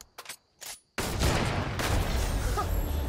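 Fortnite gunfire opens with a few scattered shots, then erupts into a loud, sustained burst of dense firing that fills the rest of the moment.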